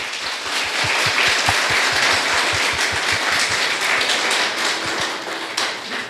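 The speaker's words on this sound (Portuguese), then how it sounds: "Aplauda Jesus bem forte," Church congregation applauding loudly and steadily, dense clapping filling the room for several seconds with a rhythmic thump of some hands keeping time.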